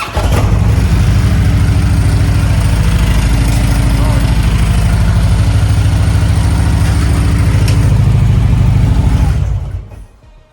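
A Harley-Davidson Road Glide motorcycle engine, leaking oil, runs steadily at a loud idle with a deep, continuous rumble for about nine seconds, then cuts off abruptly near the end.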